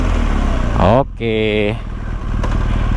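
BMW R 1200 motorcycle with a 1200 cc engine starting by keyless push button: the starter whirs briefly, then the engine catches into a steady, loud idle rumble, with a voice speaking over the start.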